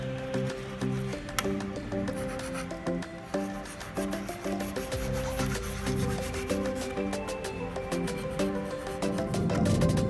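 A file being rubbed back and forth over a circuit board, steady rasping strokes in a quick rhythm, close and moderately loud, with a background hum and no talking.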